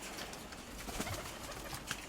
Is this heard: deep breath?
no